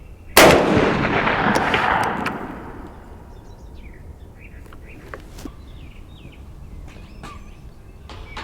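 A single loud .444 Marlin rifle shot cracks out at long range, its report rolling and decaying over about two seconds, followed by quiet outdoor ambience with a few faint bird chirps.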